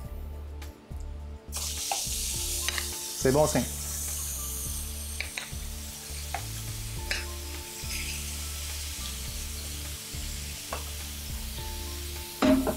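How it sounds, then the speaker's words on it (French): Steaks searing in a hot pan give a loud, steady sizzle throughout, close to the mic, with a brief spoken voice over it. "Quand on dépose notre viande, il faut bien entendre la viande se faire saisir."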